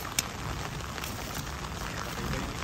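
Rain falls steadily outdoors during a tilapia catch in high floodwater, a soft, even hiss of drops with one sharp click near the start and no talking.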